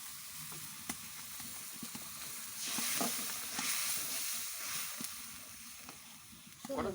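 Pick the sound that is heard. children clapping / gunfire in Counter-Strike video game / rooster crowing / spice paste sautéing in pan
spice paste sautéing in pan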